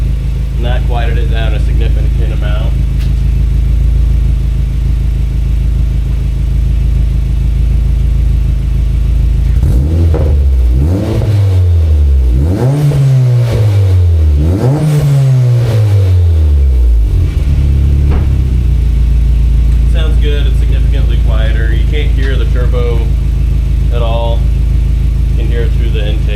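A car engine idles with a deep rumble, then revs up and down several times in rising and falling surges before settling back; talk is heard around it.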